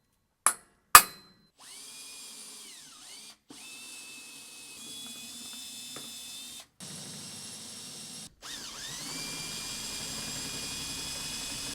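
A power drill whirs steadily in long runs with brief pauses and stop-start bursts, working on the wheel of a water truck setup, close and fairly loud, with two sharp knocks at the start.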